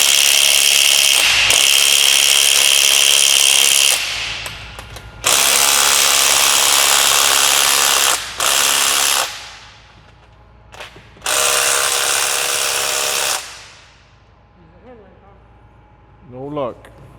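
A power tool, likely an impact wrench, runs in several long, loud bursts while removing bolts from an outboard engine with a blown head gasket during a teardown, with short pauses and faint talk between bursts.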